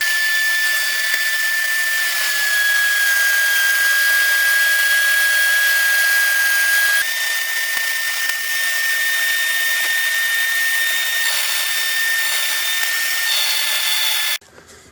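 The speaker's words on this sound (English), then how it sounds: "So I'll raise the router in, and I'll take one single pass, maybe take off a 1/4 inch or so" A router cuts a raised band into a wooden bowl held in a jig, a loud, steady high-pitched whine running unbroken for about fourteen seconds before abruptly cutting off near the end.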